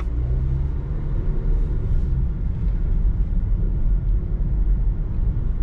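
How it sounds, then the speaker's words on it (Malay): Steady low engine rumble and road noise from a 2016 Honda HR-V 1.8 S automatic on a test drive, heard from inside the cabin, continuous and even with no talking. "Kita jalan test riding kereta."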